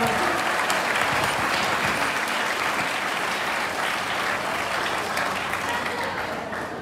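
Sustained audience applause at a live comedy or speech event, a dense wash of clapping from a large crowd that stays steady throughout and tapers slightly at the end, with no talking over it.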